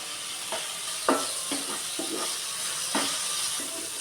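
Curry leaves go into potato masala frying in a pan: a steady close sizzle broken by several scraping stirs at irregular intervals, with no voices.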